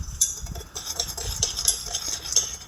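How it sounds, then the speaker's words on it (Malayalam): Tea stirred with a spoon in a cup before microwaving: a steady, close swirl of scraping and faint clinks that keeps going throughout. "നന്നായിട്ട് ഇളക്കി കൊടുക്കുക."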